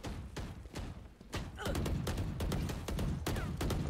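Rapid bursts of gunfire in the video game Valorant, sharp cracks and thuds fired in quick clusters at close range over a noisy, steady game mix.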